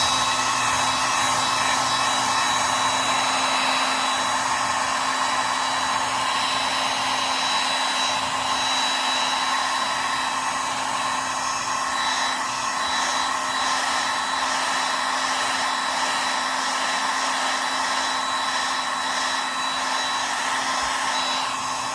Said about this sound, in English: I am going to try to dry this again one more time.